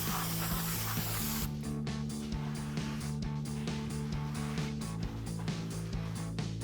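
Brake cleaner hisses in a steady, close-up spray across the outer side of a PowerStop Z36 truck brake rotor on a Toyota 4Runner, fading to softer hissing and small clicks over a low hum.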